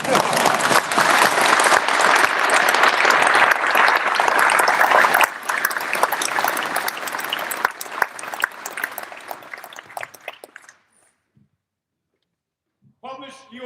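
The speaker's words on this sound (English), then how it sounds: "You all clap." Loud sustained clapping from the audience at an Air Force brigadier general promotion ceremony, gradually thinning and stopping, then silence and a brief voice at the end.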